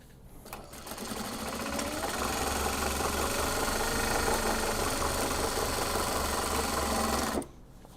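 A sewing machine stitches a straight seam on Japanese fabric drawstring bags, running in one continuous close burst of about seven seconds. It makes a steady, rapid mechanical whir and clatter, then stops abruptly.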